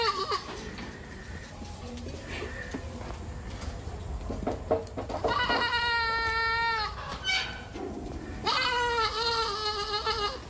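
A young goat kid in a farm goat pen bleats repeatedly and loudly in wavering cries, with other goats bleating nearby and people talking underneath.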